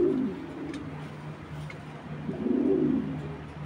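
Racing pigeons from a Bangladeshi club coo nearby, with a low throaty coo at the start and another near the end over steady background hum, and no voices.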